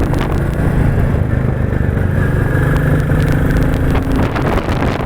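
A Royal Enfield Bullet 350 in military black pulls away on throttle, its loud, steady single-cylinder thump and engine drone filling the whole stretch with road clatter and no talking.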